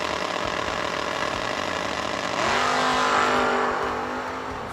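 Drag race cars, a Camaro against a Vega, roaring loudly at a raceway, with engines droning steadily and then rising in a strong acceleration that holds and slowly fades as the cars pull away.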